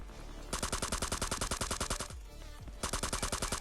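Rapid automatic gunfire in the battle-royale mobile game Scarfall 2.0, two long loud bursts of fast regular shots separated by a brief pause, close and dominant with no talk.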